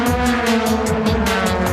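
A Yellow Hat Toyota Supra race car screams down the final straight, its loud engine note steady and close, broken by rapid rhythmic pulses from gear changes or passing cars, with no voices.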